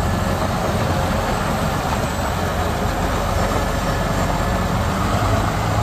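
A 2017 John Deere 8320R tractor with an IVT transmission drives forward and backward, giving a steady, loud engine and drivetrain rumble that holds constant throughout with no talking.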